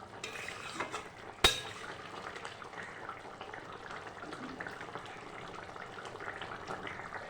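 A pot of thin rohu fish curry with potato and elephant foot yam being stirred, a soft steady scrape and bubble throughout with one sharp clank of a utensil against the pot early on, close but fairly quiet.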